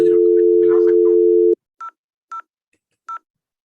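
An IP phone gives a steady dial tone for about a second and a half, then three short, evenly spaced keypad beeps sound as the number 002 is dialed.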